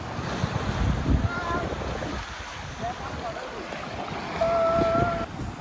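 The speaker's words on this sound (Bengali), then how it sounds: "কি ঢেউ রে ভাই, কি ঢেউ," Sea waves at Cox's Bazar beach roll and wash in a continuous roar, mixed with heavy wind buffeting the microphone and a surge that swells louder near the end; voices are faintly present.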